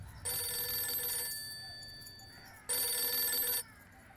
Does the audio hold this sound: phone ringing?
yes